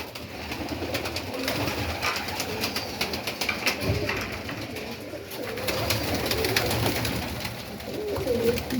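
Pigeons coo in a home pigeon loft, making soft, low, overlapping throaty calls that continue steadily under faint flutters and rustling.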